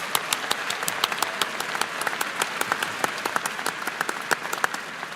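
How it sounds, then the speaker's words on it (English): A crowd at a Virginia Tech event applauds steadily, dense overlapping claps forming a continuous wash of sound with no voices. "Could we please give President Sands a round of applause?"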